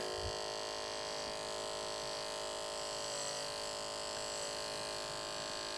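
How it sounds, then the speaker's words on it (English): Electric hair clipper with a blade snapped on, running as a steady close electric hum with fine tonal buzz, alone without talk. "We're going to turn the clipper on, and then we're going to snap the blade shut."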